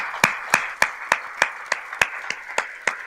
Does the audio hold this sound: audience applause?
yes